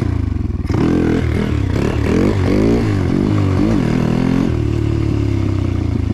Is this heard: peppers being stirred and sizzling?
no